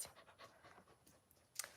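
A dog being looked after by a sitter pants in quick, rhythmic breaths close by, fairly faint, with a sharper snort or breath near the end and no talking.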